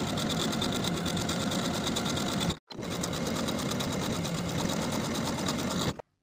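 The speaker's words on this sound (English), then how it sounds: "Then I'll sew each of my buttonholes in place." A sewing machine stitches buttonholes on the front of a shirt, its fast steady whirring hum running close and loud, stopping briefly partway through, then resuming until it cuts off.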